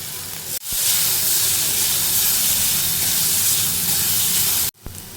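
Onions and green chillies frying in a hot pan give a loud, continuous hissing sizzle, broken by a brief gap near the start and another near the end.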